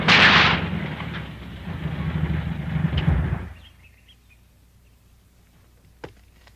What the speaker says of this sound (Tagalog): Titignan ko kung anong putukan na yan.